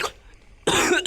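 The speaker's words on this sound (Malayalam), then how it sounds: "അയ്യോ ചുമ." A single short cough from an old woman character in the Granny horror video game, fairly loud and abrupt, following a stretch of quiet.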